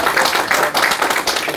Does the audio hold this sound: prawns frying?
no